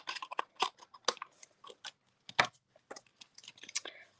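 Paper being cut with scissors while trimming a card sentiment for a handmade Father's Day card, giving many quick crisp snips in an uneven rhythm, close and quiet, with no speech.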